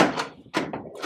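A truck cab door shuts with a solid thunk, then another heavy thud and rattle follow, close and loud with no talking.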